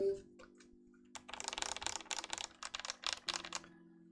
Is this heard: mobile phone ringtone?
no